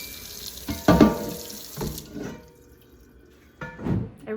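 A pan is rinsed under a running kitchen tap in a few separate splashing bursts of water, fairly close and moderately loud, with quiet gaps between them.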